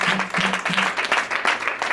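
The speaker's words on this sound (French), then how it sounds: "Come on, clap your hands." A church congregation claps along during a service, a dense, steady crowd of hands, close and lively, with a voice faintly mixed in underneath.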